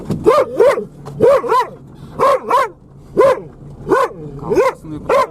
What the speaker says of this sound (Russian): на сегодня там собаки лежат прямо на дороге